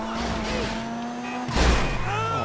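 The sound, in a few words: car driving and tires skidding in the GTA 5 Online video game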